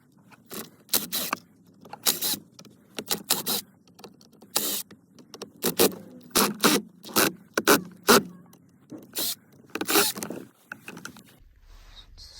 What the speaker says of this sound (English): I'll have to remove these screws and then screw the boss kit on.